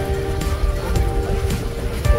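Waves roll onto the long beach at South Palms Resort in Bohol with a steady broadband surf wash, close and fairly loud, touched by wind buffeting.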